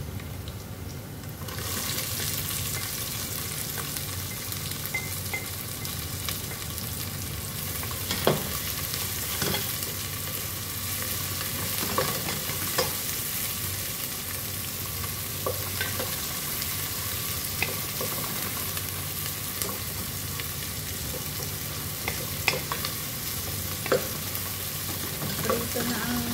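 Onions and green chili frying with ginger and garlic in a pan, a steady soft sizzle with occasional stirring scrapes and clinks, close and continuous with no voices.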